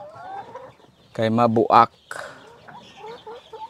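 Backyard hens gather around a single nest box on a Cebu farm, giving short clucks and one loud drawn-out squawking burst close by, with someone speaking briefly among the calls.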